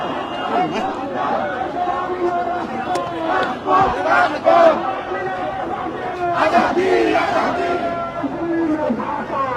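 Protest march crowd organized by the National Citizen Party in Dhaka, with many voices shouting and chanting slogans in waves; a dense, loud, continuous roar with rising bursts of collective cries.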